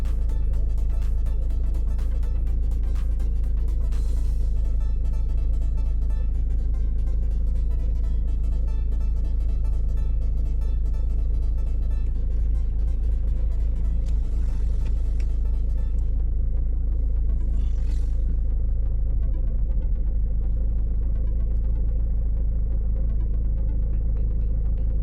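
A car pulls away during a driving test on a Wakefield route, heard from inside as a constant low engine rumble and road hum, with a few faint clicks and no speech.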